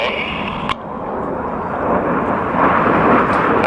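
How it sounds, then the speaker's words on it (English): Red Arrows jets pass during an air display at Cosford, a broad, rising roar that swells toward the end, with a commentator talking over it. "the aircraft coming in from our front right"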